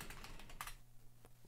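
Short burst of keystrokes on a computer keyboard during a Doom-style game session, a quick cluster of clicks followed by a few sparse taps, close and fairly quiet.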